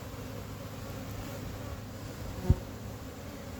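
Honeybees drone in a steady, soft buzz during a hive inspection, an even hum from many insects with one brief sharp tap partway through.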